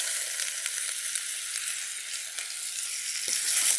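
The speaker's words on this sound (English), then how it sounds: "To that, I'm gonna add some julienne or sliced onions." Sliced onions frying in hot oil in a pan, a bright steady sizzle throughout with a few small crackles, close and alone without any talking.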